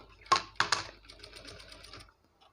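A sewing machine stitches a neck design with potli balls and a small border, giving two sharp starts followed by a quick run of even, rattling stitches that stops abruptly, close and clear.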